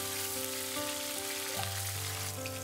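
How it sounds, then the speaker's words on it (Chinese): Spices crackle and sizzle steadily in hot cooking oil after onion, scallion and coriander root, a constant close hiss of frying for a homemade malatang broth base, with steady tonal sounds in the background. "再倒入备好的其他香料爆香"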